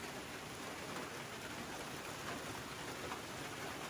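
Heavy rain pours down in a steady, dense hiss with no breaks, an even wash of falling water and no voices.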